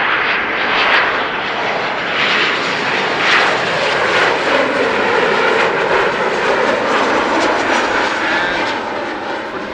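A German Airways airliner arriving on runway 06 at Amsterdam Schiphol, its engines a loud, close, sustained roar that swells and then slowly fades as it passes.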